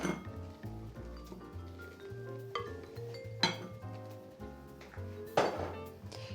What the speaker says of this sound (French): Il faut juste que j'arrive à sortir le saladier.